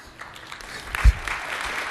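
Audience in a conference hall at a Microsoft Silverlight 4 presentation, giving a short, fairly light smattering of applause that swells briefly with one loud thump near the middle.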